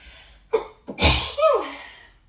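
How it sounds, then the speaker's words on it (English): A single sharp sneeze, preceded by a couple of quick catching breaths, close and loud against a quiet background. "triggers my sneeze reflex once I get back up"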